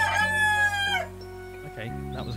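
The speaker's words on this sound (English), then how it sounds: "Okay, that was a cockerel." A cockerel crowing loudly and close in a single long, bright call that cuts off after about a second, over a steady tonal background hum from a video game.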